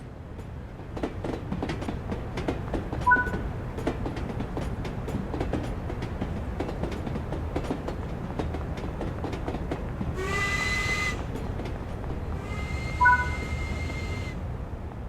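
A steam train in the game Spirit of Steam chugs along with a steady rhythmic clatter, then lets out two loud, drawn-out whistle blasts, one after the other, with no talking.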